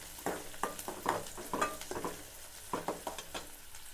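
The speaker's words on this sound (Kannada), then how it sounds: "ಈಗ ಅವೆಲ್ಲ ಉಳ್ಳಾಗಡ್ಡೆ ಚಲೋ ಹೊತ್ನಂಗೆ ಫ್ರೈ ಆಗ್ಬೇಕ್ರಿ" Chopped onions fry in a pan, stirred with a utensil, producing quiet intermittent scraping and light sizzle in short rhythmic strokes.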